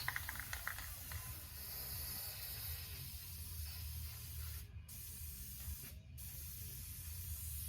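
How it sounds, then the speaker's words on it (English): A carved fish surface is spray painted white, a steady close hiss running the whole stretch with a couple of brief pauses where the spray cuts out. "we're just going to go ahead and paint the whole surface white"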